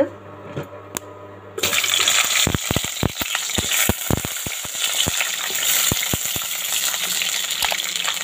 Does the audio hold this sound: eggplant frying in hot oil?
yes